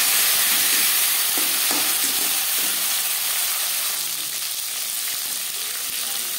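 Chopped tomatoes hit hot oil tempered with bay leaf for a Bengali tangra fish curry, giving a loud, steady broadband sizzle with a few scattered stirring taps early on, with no voices.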